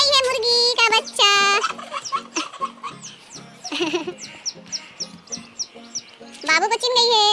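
Baby chicks chirp in bursts of high, thin peeps, loud and close, with quieter clucking and rustling between them in a home setting. Voices speak intermittently.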